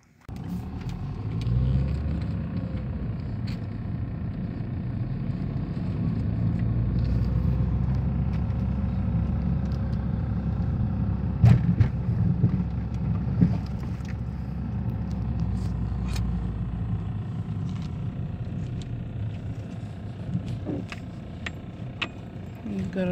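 A car rolling along a road past garages and dachas, with a steady low engine and tyre rumble throughout and brief rattles over bumps.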